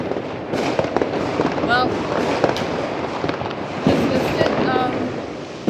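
New Year's fireworks and firecrackers going off across Berlin: a dense, continuous crackle of bangs and pops with whistling rockets, loud and close, while a person speaks over it.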